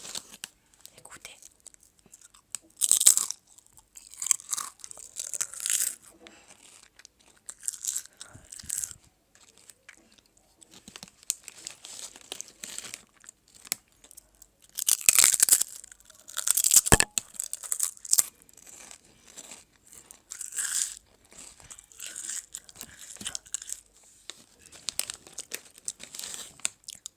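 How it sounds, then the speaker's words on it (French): Potato chips being eaten close up, with sharp crunchy bites and crinkling of the bag coming in bursts between quieter pauses, soft and intimate in an ASMR style, with little or no talking. "Attention, je vais commencer à les manger."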